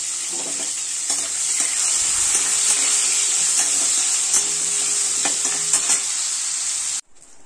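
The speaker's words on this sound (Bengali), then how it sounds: "ওই তেলের মধ্যে আমি চিংড়িগুলোকে ভেজে তুলে নিয়েছি হালকা" Shrimp fry in hot oil with a loud, steady sizzle and scattered crackles and spatters, joined by occasional utensil clinks, then the frying cuts off abruptly near the end.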